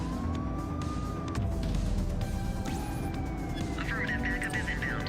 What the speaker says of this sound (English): Probably turn my siren on.